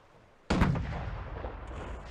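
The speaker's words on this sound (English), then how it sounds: "Load cannon." A single cannon shot booms out in the pirate VR game Sail, a sudden loud blast after near silence that trails off into a long rumbling decay.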